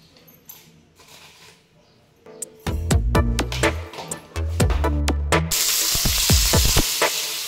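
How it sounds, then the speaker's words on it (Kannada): Sambar tempering sizzling in hot oil, sharp crackles and pops that start sparse and build into a dense, loud spluttering sizzle, close up with no talking. "ಸಾಂಬಾರು ಒಗ್ಗರಣೆ ಹಾಕ್ಕೊಳ್ಳೋಣ."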